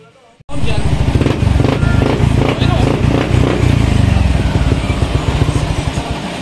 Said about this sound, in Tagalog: At matapos nga nailagay itong ignition coil dito sa ating motorcycle ay mas gumanda yung response nitong ating motorcycle